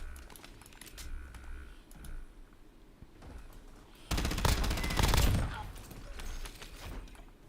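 A burst of automatic gunfire crackles from a Call of Duty game played on mobile through Xbox Cloud, with bright rapid shots peaking mid-clip. Quieter clicks and game sounds surround the burst.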